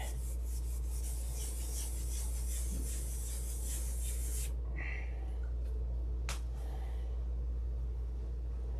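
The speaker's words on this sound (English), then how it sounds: "Urethane, I start sanding it the minute I can touch it." Hand sanding of a fresh urethane finish gives a steady, close, continuous rasping rub for several seconds, then stops, leaving a low hum and a couple of faint knocks.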